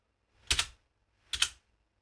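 Two short bursts of computer keyboard keystrokes, a quick cluster of key presses each, entering a Bower command in a terminal; close and quiet with silence between the bursts.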